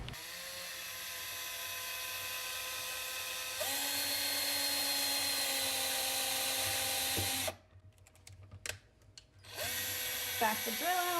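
A power drill whines at a steady high pitch drilling into a Hot Wheels toy car, its tone jumping as it bites in, then stops briefly before spinning up again in short bursts.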